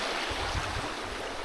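Surf at a seaside campsite in Barangay Maputi, Banay-Banay, Davao Oriental washes in as a steady broadband wash of waves, continuous and fairly close, with no voices.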